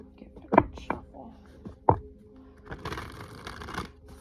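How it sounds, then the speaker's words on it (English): A spirit animal tarot deck shuffled by hand: a couple of sharp card snaps, then a steady papery riffling near the end, with a voice briefly audible. "Give it a good shuffle."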